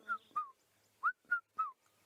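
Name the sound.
cuckoo call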